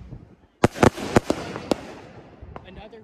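Fireworks salutes go off outdoors at a July 4th park show, with sharp, loud reports in a quick cluster, then a few fainter pops as the sound fades.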